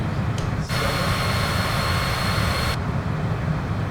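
Steady aircraft engine drone from Microsoft Flight Simulator 2024 in cruise, a continuous broadband hum with a brighter layer that cuts in and then drops out.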